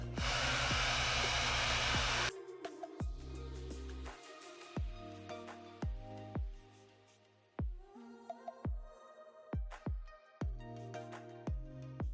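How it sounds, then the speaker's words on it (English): A hair dryer fitted with a diffuser blows loud and steady for about two seconds while drying curly hair, then cuts off, leaving scattered clicks and knocks. "I am just going to go in with my diffuser and go ahead and start diffusing my hair"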